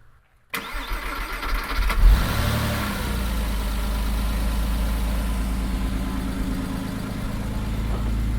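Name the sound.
Porsche Boxster engine starting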